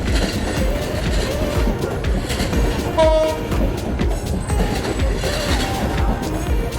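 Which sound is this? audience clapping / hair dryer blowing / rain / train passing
train passing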